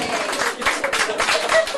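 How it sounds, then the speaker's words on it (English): A theatre audience at a British comedy hypnosis stage show claps in a dense, steady burst of applause that holds at an even loudness for about two seconds. "Give her a round of applause."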